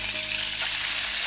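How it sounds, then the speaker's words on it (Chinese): Fish pan-frying in a wok gives a continuous close sizzle, a bright crackling hiss at steady loudness with no voices over it. "再把另外2条也下锅煎一下，"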